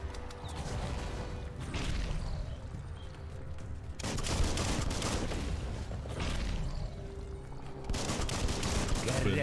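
Gunfire from weapons in the video game Biomutant, steady dense bursts running throughout, loud and continuous with overlapping shots and mechanical clatter, with some voice mixed in.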